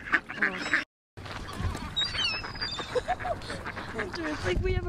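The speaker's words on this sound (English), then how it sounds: "it's like we have a freaking family of ducks" Family of ducks quacking nearby, several bursts of nasal calls scattered through the stretch, mixed with excited voices talking over them.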